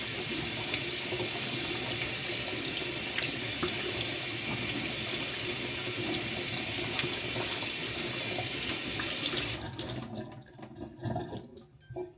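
A water tap runs in a steady, loud hissing stream for about ten seconds before being shut off, leaving a few quieter drips and trickles.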